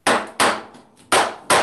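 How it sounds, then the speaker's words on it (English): A hammer taps to tune an atabaque drum, four sharp, close strikes in an uneven rhythm with faint softer taps between them. "if you need to tune, you need like a kind of hammer"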